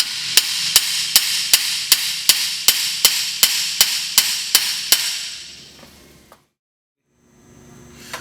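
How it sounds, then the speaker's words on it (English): Sharp metallic hammer blows on a VW MK4 steering knuckle ring out about fifteen times in a steady, even rhythm, then stop, followed by a brief hush and faint shuffling. "You take a hammer and one hand holding on to the knuckle."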